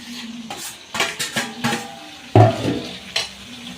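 A spoon stirs chicken curry with tomato in a metal pot, giving several loud scraping strokes and clanks against the pot with a soft sizzle beneath, and one heavier knock partway through.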